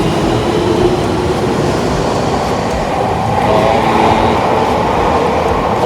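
A subway train rumbles loud and steady at a station in Japan, with continuous rolling wheel noise and faint squeal filling the whole stretch, no talk over it.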